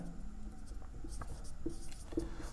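A pen writes by hand on paper during a maths lesson, soft scratchy strokes that come and go in short bursts, faint and close over a low background hum.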